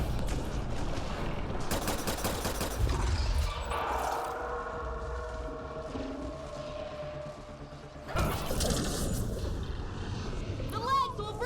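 Gunfire aimed at a big robot in the video game Mass Effect Andromeda: bursts of rapid shots and booming impacts fill the first seconds, then louder crashes return near the end under game noise and talking.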